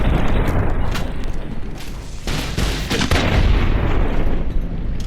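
Rapid 9mm pistol fire in Fallout New Vegas, loud, dense shots with booming low end running almost continuously, with a few sharper cracks standing out midway.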